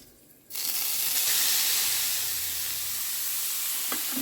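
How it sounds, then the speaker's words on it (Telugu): Grated carrot drops into hot ghee for carrot halwa, and after half a second of quiet a loud, bright sizzle erupts and holds steady, close and alone, with a faint clink near the end. "ఈ క్యారెట్ తురుము అంతా వేయించుదాం"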